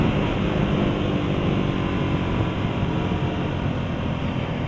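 A 2015 Ducati Hypermotard 821 motorcycle accelerating hard under a twisted throttle, a steady, loud, broadband engine and wind roar that holds without a break for the whole stretch.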